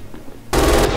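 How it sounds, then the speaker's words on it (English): An MG 42 machine gun in Red Orchestra 2 opens up suddenly after a quiet moment, a loud, fast, continuous burst of rattling fire that lasts to the end. "you hear an MG42 blaring away at the enemy"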